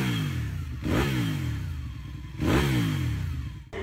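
A Ducati 1199 Panigale with a Superquadro V-twin engine and Termignoni exhaust revs hard twice, each blip rising sharply and falling back to a burbling idle, close and loud, with no voices.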